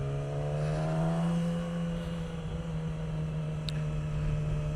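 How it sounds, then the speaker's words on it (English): Yamaha R6 racing motorcycle at speed on the NW200 Coast Road, a loud steady high engine drone holding one pitch throughout, with rising rev harmonics early on. "don't forget the bikes are ripping around here as fast as they can"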